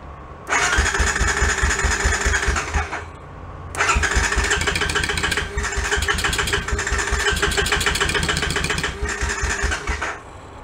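A Honda ATV engine with the choke on cranks and then fires up in two bursts, starting briefly, cutting out, then catching again and running loud and close with a rough, pulsing idle.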